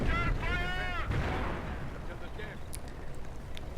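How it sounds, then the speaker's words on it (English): Faint booming thuds of mortar fire in a war strategy game, with a half-track mortar barrage, sitting low beneath a voice and a few sharp effect clicks. "He's letting his mortar do some work."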